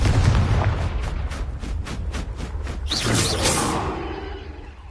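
A Confringo fire spell explodes in the Hogwarts Legacy video game on PS5, heard as a rapid run of sharp blasts and pops followed by a loud whooshing burst that then fades, over a steady low rumble.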